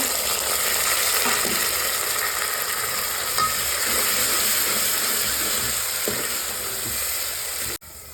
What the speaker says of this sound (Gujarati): ડુંગળી નાખી દીધી છે તો જો આપણે ડુંગળી ચડી ગઈ છે હવે નાખી દેવાનું છે દાણા